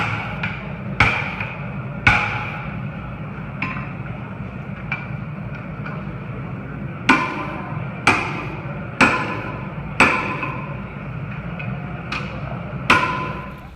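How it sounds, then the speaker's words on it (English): Ball peen hammer strikes on metal at a blacksmith forge event, sharp ringing taps at irregular spacing, some spaced a second apart, over a steady low crowd and machinery hum. "Ball peen hammer, tap, tap, tap, tap, and work it."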